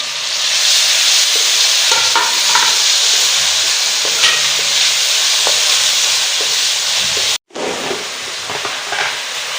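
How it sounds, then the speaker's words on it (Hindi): Green chili and ginger-garlic paste fry in a pan for a Punjabi kadhi pakora, giving a loud, steady sizzle and hiss with occasional stirring scrapes and one brief drop-out. "हरी मिर्च और 1 चम्मच अदरक लहसुन का पेस्ट डाल लेंगे और इसे अच्छी तरह भून लेंगे"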